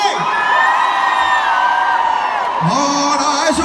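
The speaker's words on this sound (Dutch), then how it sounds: "Mag een waanzinnig applaus voor mijn voorbeeld." A lively crowd at a Dutch show cheers, whoops and yells for darts player Xander, the shouting loud and close and holding on throughout, with a voice briefly rising over the noise near the end.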